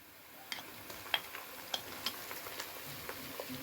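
Onions fry in a pan as garlic and ginger paste goes in for a mixed vegetable dish of potato, carrot and peas. A soft, faint sizzle runs beneath light, scattered clicks and scrapes from a stirring utensil.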